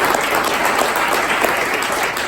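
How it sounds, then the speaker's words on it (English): An audience applauds a startup careers expert panel, with dense, steady clapping sustained throughout at an even, loud level and no talk over it. "So can you please give a big round of applause to"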